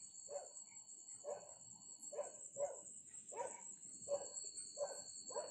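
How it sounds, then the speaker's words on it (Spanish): A dog barks repeatedly in the distance in a dark cemetery at night, about eight faint barks in a steady series over a constant high whine of crickets. "Quiero pensar que es un perro que se escucha."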